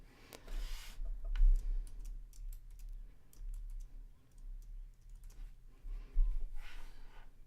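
Computer mouse clicks in scattered bursts while painting with a scatter brush, light quick taps near the microphone against a quiet background.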